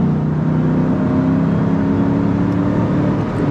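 Loud cabin drone of a Ford Mustang Cobra engine revving as the car accelerates, a dense steady roar holding its pitch with a couple of faint high ticks near the end, no voices.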